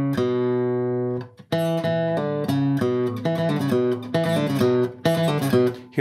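Electric guitar plays phrases from a piece, clear melodic runs of picked notes with a brief pause near the start, solo and close, no speech.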